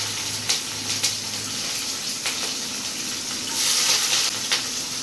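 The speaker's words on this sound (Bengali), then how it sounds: "পেঁয়াজটা একটু ভেজে নিই।" Onions fry in oil in a home kitchen, a soft steady sizzle with light stirring scrapes and clinks over it.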